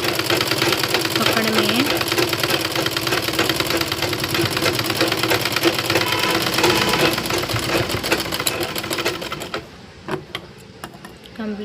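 A hand-operated sewing machine with no motor stitches a blouse, giving a steady, rapid mechanical clatter close by that runs continuously before easing off near the end with a few separate knocks.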